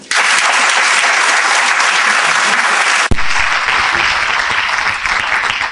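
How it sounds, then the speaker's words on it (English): Audience at a Birmingham evening business networking event applauding to welcome a guest speaker: dense, loud, sustained clapping from a full room, with a brief break near the middle before it carries on. "as you were clapping your hands"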